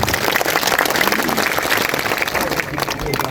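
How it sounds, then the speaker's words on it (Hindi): Loud, dense applause from a crowd at a social gathering welcoming Baba Saheb, continuous clapping throughout with a general crowd roar beneath. "बाबा साहब के लिए जोरदार तालियां बजा के स्वागत कीजिए"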